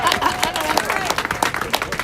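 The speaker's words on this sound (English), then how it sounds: "You clap to that." A crowd at a street rally in St. Paul, Minnesota applauds and cheers in a dense, continuous wash of clapping, loud and steady throughout.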